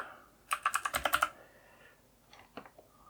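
A keyboard shortcut being tapped out in Fusion 360: a quick burst of about eight crisp, close keystrokes, then a few softer, scattered taps in a quiet room.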